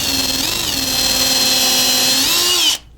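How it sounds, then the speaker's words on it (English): A power drill bores a pilot hole into a wooden serving board, a loud steady whine that dips briefly in pitch as the bit bites, then cuts off abruptly near the end. "I'm just drilling a pilot hole"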